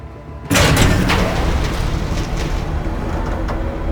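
Train in Telltale's Batman game bursts in suddenly after a quiet moment, a loud, steady roaring rumble of a moving train that carries on to the end.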